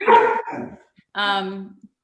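A puppy barks twice, loud and close by, with two short yappy barks separated by a brief pause, during an online community workshop.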